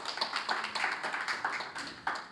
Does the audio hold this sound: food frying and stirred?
no